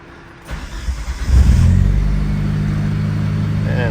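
A Mitsubishi DSM car engine starts up and settles into a loud, steady idle while warming up on a cold, snowy day.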